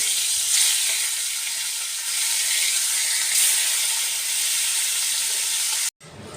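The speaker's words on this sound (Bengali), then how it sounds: "নুন হলুদ মাখানো কাতলা মাছগুলো প্রথমে ভেজে নেব।" Katla fish pieces, rubbed with salt and turmeric, fry in hot oil for a katla korma. A steady, loud, hissing sizzle runs continuously and alone, then cuts out abruptly near the end before resuming faintly.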